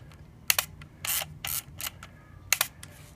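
An Olympus XA2 compact camera with an intermittent shutter misfire fires its shutter, giving several short, crisp mechanical clicks and soft whirring advance bursts close to the mic, spread over a few seconds in a quiet room.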